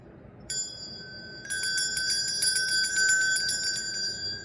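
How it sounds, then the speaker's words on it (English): Bells ring during a candle session: a single bright strike, then a rapid cluster of overlapping metallic chimes that keep ringing and sustaining. "Let's hear those bells again."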